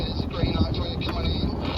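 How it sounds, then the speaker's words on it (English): Blustery wind buffets the microphone aboard a sailboat off Harwich, a constant rough rumble with gusty swells throughout. "It's quite blustery today."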